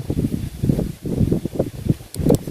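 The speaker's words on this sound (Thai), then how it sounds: "ลมแรงขึ้นมาเลยโอ้ พี่นู่นมีลมกระโชกเว้ย" A strong gust of wind at night outdoors in a natural setting buffets the area in loud, irregular low rushing surges, with brief dips between blasts and no speech.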